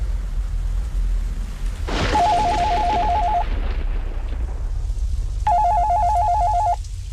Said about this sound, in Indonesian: telepon di ruanganku ini tiba-tiba berbunyi memecah kesunyian